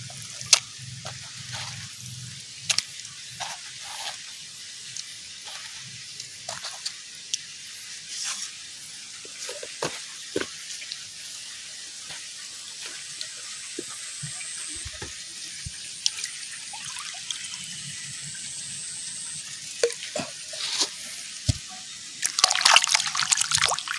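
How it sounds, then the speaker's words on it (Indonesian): Clams being washed under running water, a soft continuous trickle with frequent small clicks and clatters of shells handled in a basin, growing louder splashes near the end. "Sekarang kita cuci biar bersih kerangnya."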